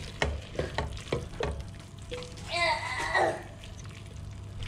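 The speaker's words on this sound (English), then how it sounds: "As you can see, the pork is already seared, cooked on the outside." Seared pork sizzles in a pan while being stirred, with close scraping strokes and spatters, and a voice briefly audible partway through.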